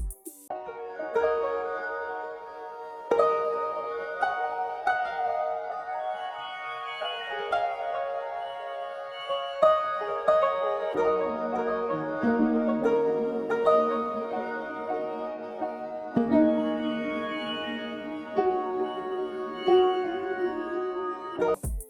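Layered strings pitched up four semitones play a slow, high melodic phrase with sustained notes and changing chords, moderately loud and steady, with no voices.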